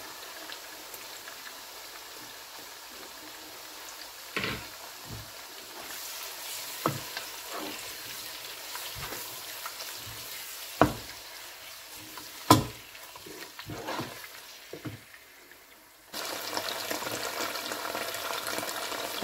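Tomato paste fries in a pot for Nigerian stew, with steady sizzling and crackling throughout and a few sharp clinks of a spoon against the pot. The frying grows louder near the end, and no one talks.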